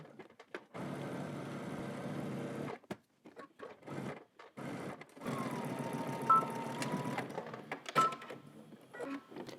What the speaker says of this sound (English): we're going to head to the machine and stitch from the top all the way down to the bottom here